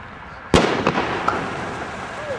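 A loud, close firework blast from a professional display shoot, going off after a hang fire, with a sharp report followed by crackling echoes that fade.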